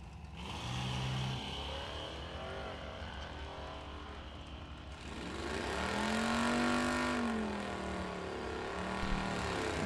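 Drag race launch of a 1978 Nova and a 2019 Challenger in Sportsman ET bracket racing, engines droning and rising in pitch as the cars accelerate away down the strip, fairly faint and distant.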